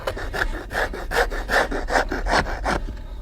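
A wooden rasp shaping a wooden clog, made as rustic footwear with an esparto weave, gives about nine rhythmic rasping strokes in steady succession, close and fairly loud with no voices.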